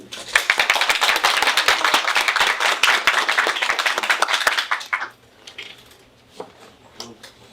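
A small audience at a talk breaks into brisk, close applause for about five seconds, then it thins to a few scattered claps that trail off.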